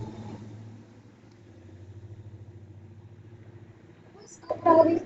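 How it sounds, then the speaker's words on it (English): Trucks driving past nearby, a low rumbling engine drone that swells and fades with a pulsing idle-like throb, ending with a louder burst of noise close by. "what's up with all these trucks coming through here?"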